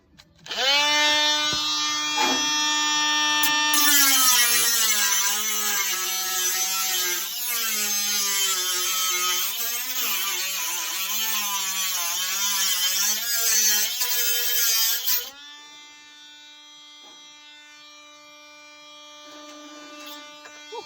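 A battery-powered cutting tool works into a body panel on a 1956 Cadillac Series 62, a loud, steady high-pitched whine whose pitch wavers as it bites for about fifteen seconds, then drops to a quieter idling hum.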